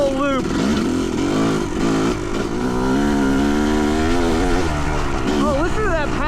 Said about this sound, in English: But listen to this YZ250.